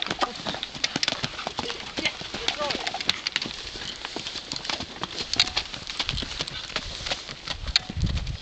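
Hooves clip-clop steadily on hard ground as horses walk at a ranch, with occasional snorts and faint voices in the background.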